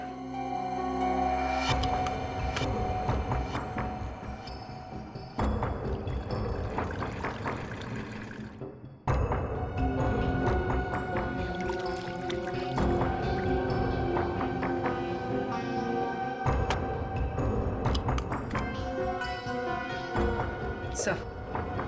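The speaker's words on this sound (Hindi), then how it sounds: "तो जरा इसमें पानी भर।" Water is poured into a small drinking bottle that has a hole in it, with a soft, splashing trickle running under people talking.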